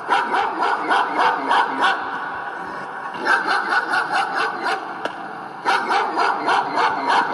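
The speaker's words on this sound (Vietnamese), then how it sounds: "Ồ, có tiếng chó." A dog barks in short repeated bursts inside a Siren Head horror game, loud and close, with brief pauses between the bark volleys and no talking.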